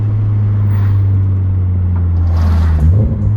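A 2023 Subaru BRZ fitted with a catback exhaust accelerates from inside the cabin, its deep droning exhaust note rising steadily in pitch as the revs climb.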